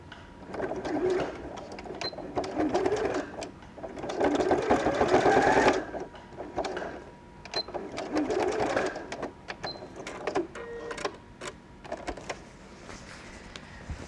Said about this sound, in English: I can flip it over and again sew right up to that seam